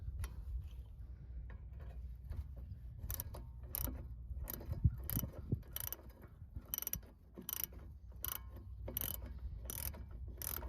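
A ratchet tightens the brake caliper slide pins on a 2004 Dodge Dakota during a brake pad job, giving close, repeated sharp clicks in short bursts over low background noise, with no voices.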